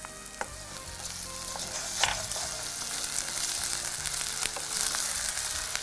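Ginger garlic paste sizzles in a pan of sautéed onions, a steady close frying crackle with occasional stirring scrapes and clicks, and no voices over it.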